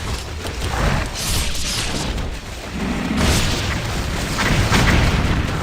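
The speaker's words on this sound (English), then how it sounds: "Gosh, these stupid rockets, man." Heavy rocket explosions in the action game Ninja Gaiden II on Xbox One X: a run of deep, rumbling booms close together, layered over a dense, noisy in-game din with no pause between blasts.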